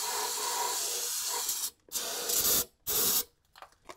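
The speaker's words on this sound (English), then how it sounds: "Give it another brake clean bath here." Brake cleaner sprayed onto a Chevrolet Blazer rear axle part: a long hissing blast, then two shorter bursts and a few brief puffs, close and loud with no voices.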